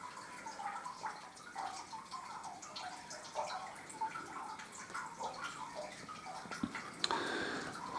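Water drips slowly inside an old shopping arcade, each drop a faint, sparse tick against a quiet, hollow room tone.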